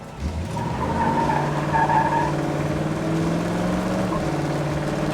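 A 1967 Ford Mustang launches from a dead stop on wet tarmac, its engine revving hard and rising in pitch as the tires briefly chirp, loud and close with no talking.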